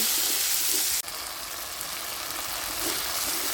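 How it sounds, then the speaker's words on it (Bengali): Spices frying in oil in a pan for a Bengali raw-banana kofta curry, giving a dense, even hiss throughout with one brief clatter near the start, close and continuous, no talking. "আবার আমি সমস্ত কিছু মশলা ভালো করে কষিয়ে নেব।"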